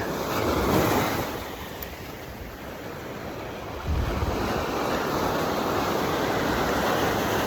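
Ocean surf rolls continuously against a rocky shore in Saipan, a broad roaring wash of waves with wind rushing across the microphone.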